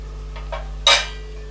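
A spoon works besan flour into roasting onions in a pan, with two soft scrapes followed by one sharper metallic clink, close and brief over a quiet background hum.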